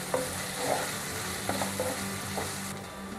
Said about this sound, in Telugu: ఇప్పుడు ఆనియన్స్తో పాటు మనం గార్లిక్ జింజర్ పేస్ట్ని దీంట్లోకి యాడ్ చేసి ఆనియన్స్ కొంచెం బ్రౌనిష్ కలర్కి వచ్చేంత వరకు వేయిద్దాం